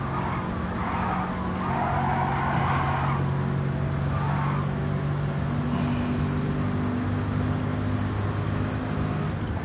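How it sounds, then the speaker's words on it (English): A Mercedes-Benz race car in Gran Turismo 7 drones steadily with a constant engine hum while the tires squeal and skid in bursts, all held at a moderate level for about ten seconds. "I hear the engine going."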